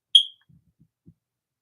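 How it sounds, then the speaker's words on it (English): A smoke alarm gives a single short, sharp low-battery chirp, followed by a few faint soft knocks in an otherwise quiet room. "The smoke alarm does need batteries."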